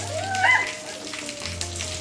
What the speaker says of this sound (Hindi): बारिश भी काफ़ी ज़्यादा हो रही है